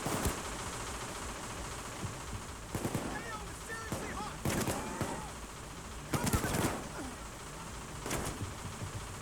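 Sharp bursts of gunfire in Payday 2 during a bank robbery shootout crackle across a noisy steady background, with voices talking between the shots.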